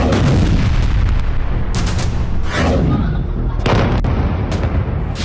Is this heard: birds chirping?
no